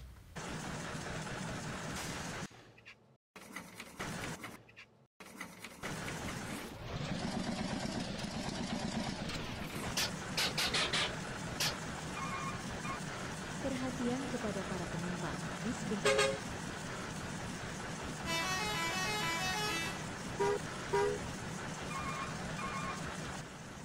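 Deep, droning diesel engine rumble from a game vehicle with horn toots and shifting revs, alongside speech and electronic game sounds.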